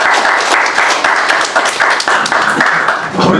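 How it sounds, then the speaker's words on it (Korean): An audience at a Christian romance lecture applauds in a steady, loud burst of clapping that lasts for a few seconds at close range. "정현 씨께 박수 한번 드리도록 하겠습니다."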